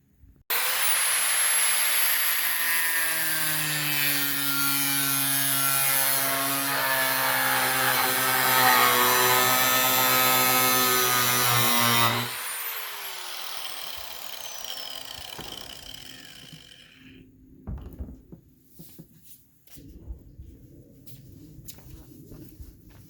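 A power tool with a cutting wheel slicing through a plastic IBC tote, a loud steady whine for about twelve seconds that then winds down, followed by quieter scraping and handling noises.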